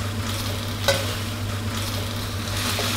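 Isan sausages fry without oil in their own juices and a little water, giving a steady close sizzle with a low hum and one brief clatter, no voices.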